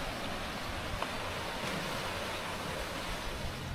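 Ocean waves breaking on a sunny beach, a steady, dense wash of surf that fills the whole span without pause, with no voices.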